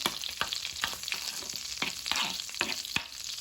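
Butter cooking in a pan, a steady close sizzle and crackle with soft scraping taps of stirring at irregular moments, no voices over it.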